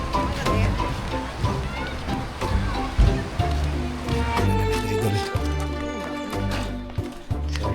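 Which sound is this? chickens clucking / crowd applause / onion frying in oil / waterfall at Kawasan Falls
waterfall at Kawasan Falls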